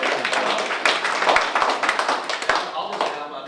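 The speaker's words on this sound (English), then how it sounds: "let's give our panelists and guests a round of applause" Applause for panelists and guests at a Rural Caucus reception: a steady, dense patter of clapping from a crowd, close and fairly loud, lasting a few seconds before thinning slightly at the end.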